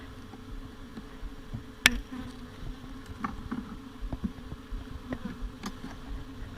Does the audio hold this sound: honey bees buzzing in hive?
yes